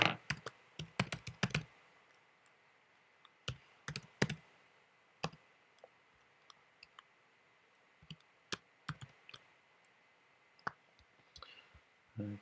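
Keys clack on a computer keyboard as code is typed for a Swift Hello World program, a dense burst of rapid taps up front, then sparse, scattered single keystrokes and short clusters, close and fairly quiet with no talking.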